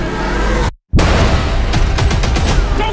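A loud, dense burst of rapid gunfire from an action movie trailer, broken by a brief moment of silence and then resuming as close, crackling shots layered over booming impacts.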